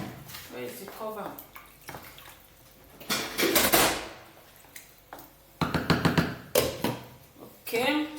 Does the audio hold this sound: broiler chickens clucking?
no